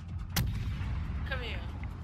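A single loud ship cannon blast booms out in the naval combat game World of Warships, followed by rumbling battle ambience and faint whistling shells, with no clear talk during it.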